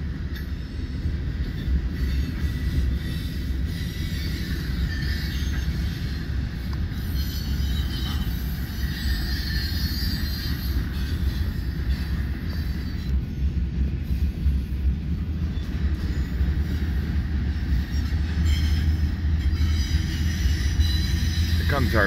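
A Southern Pacific freight train with a mid-train GP-series locomotive rumbles past steadily in Fremont, Nebraska, with low rolling noise and faint metallic squeals throughout, continuous and fairly close.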